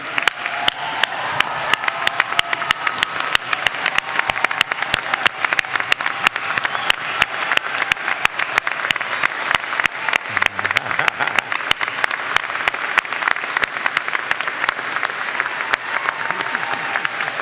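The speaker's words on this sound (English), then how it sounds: "Let's give them a standing ovation" A large commencement crowd gives graduates a standing ovation, with dense, steady applause from many hands that continues loudly and evenly throughout.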